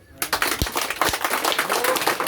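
An audience at an open public meeting in Thariya breaking into applause, a quick burst of dense, moderately loud clapping that starts abruptly and continues to the end.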